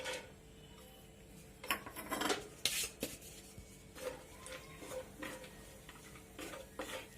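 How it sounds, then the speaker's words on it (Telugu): A spatula clatters and scrapes in a pan while cashews and raisins fry in melted ghee, bursts of close stirring knocks and rubs coming in uneven clusters, no talking. "నెయ్యి కరిగించుకున్నాక దీనిలో జీడిపప్పు కిస్మిస్ వేసుకొని ఫ్రై చేసుకుందాం"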